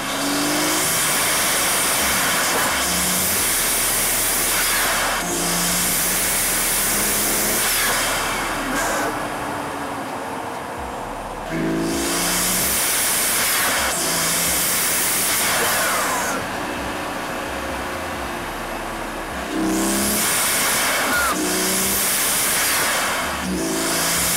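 Cabin noise inside a BMW G80 M3 fitted with an MST intake: a steady, loud drone of engine and road roar with repeated swelling bursts of intake hiss as the car accelerates, no talking.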